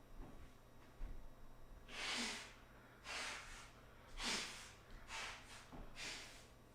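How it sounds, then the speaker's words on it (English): Several loud, breathy nose-blowing bursts, about five in a row with short pauses between, close and unaccompanied by talk. "blow my nose, sorry"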